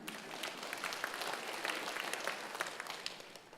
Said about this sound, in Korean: 여기 박수 좀 쳐드렸으면 좋겠어요.